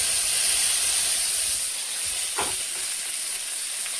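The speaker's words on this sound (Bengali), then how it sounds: "এখন আমি এই যে মিশালি ভাজিটা ভাজবো, তেলে দিয়ে দিব শুকনো লঙ্কা" Dried red chillies and black cumin sizzle steadily in a little hot oil in a home kitchen pan. The hiss is constant and moderately close, with a brief stir or spatter partway through.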